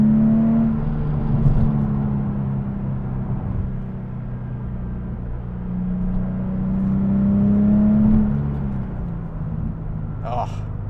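A Nissan 370Z engine pulling through the gears on the street, a steady low drone that rises and falls in pitch with each gear, heard from inside the car with talk over it.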